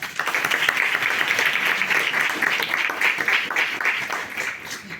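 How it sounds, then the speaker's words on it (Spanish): An audience applauds steadily, a dense wash of many hands clapping at even loudness throughout. "Un aplauso para Pilar."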